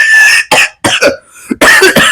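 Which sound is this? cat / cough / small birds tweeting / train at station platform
cough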